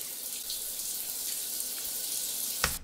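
A video-game shower runs with a steady, even hiss of spraying water, ending in a brief sharp knock near the close.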